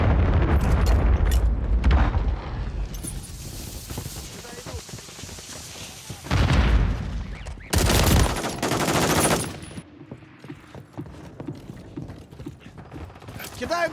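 A grenade explosion and bursts of gunfire in the video game Call of Duty MW3 erupt in heavy, booming blasts over constant mechanical battle noise, with game voices talking through the action.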